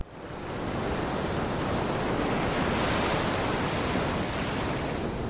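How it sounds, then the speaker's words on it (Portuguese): Ocean waves wash steadily onto a coast, a dense continuous roar of surf that swells in over the first half second and then holds loud and even with no voices. "O mar era minha nova companhia, suas ondas constantes trazendo uma sensação de paz que eu nunca havia conhecido."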